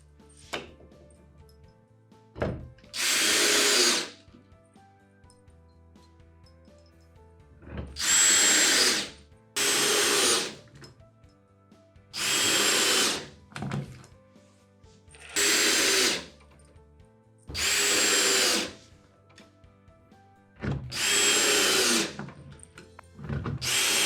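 A power drill drives a screw into a wooden batten in short, loud bursts, about eight separate whirring runs separated by quiet pauses, close to the listener.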